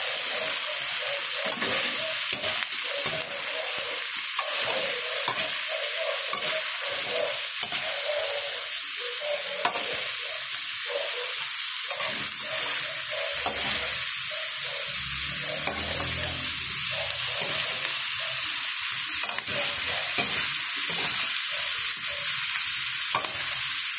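Butter chopsuey, a mixed vegetable stir-fry, being stirred in a hot pan, with a loud continuous sizzle and repeated scraping, tossing strokes of the utensil close up.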